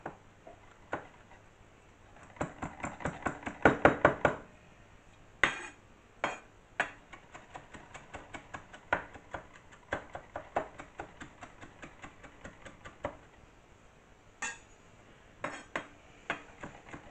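A knife chops wild garlic on a cutting board: a quick, close burst of sharp wooden taps, then sparser single chops and clicks spread through the rest.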